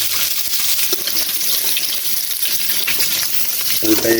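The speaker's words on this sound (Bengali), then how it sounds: "উল্টায় একটু ভেজে নেবেন ভিতর দিকে, তাহলে মশলা খুব সুন্দর হবে" Eggs fry in a pan for an egg bhuna, giving a continuous close hiss of sizzling oil, with a few soft clinks near the end.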